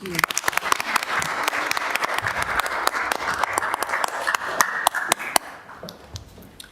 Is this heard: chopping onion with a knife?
no